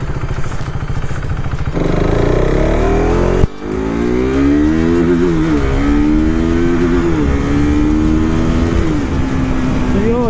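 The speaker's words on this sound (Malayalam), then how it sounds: "ഇനി നമുക്ക് വണ്ടി ജസ്റ്റ് ഒന്ന് ഓടിച്ച് നോക്കാം." A KTM RC 390 motorcycle that has been fully restored is ridden. Its engine drones loud and close, the pitch steps up through the gears with a sharp shift about a third of the way in, and then holds a steady rising whine.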